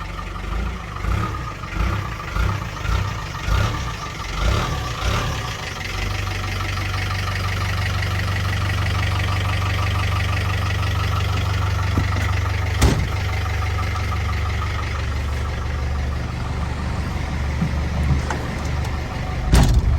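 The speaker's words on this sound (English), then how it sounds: "Wait for them to go off and start. First crank." A cold diesel engine in a 1996 Land Rover Defender 90 cranks with several rhythmic turns, catches after about five seconds, then settles into a steady, rough, knocking idle close by.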